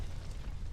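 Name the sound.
explosion in the video game Aviary Attorney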